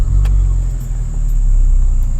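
Car engine idling steadily close by right after being started during an ECU scan, a constant low rumble filling the clip without talk.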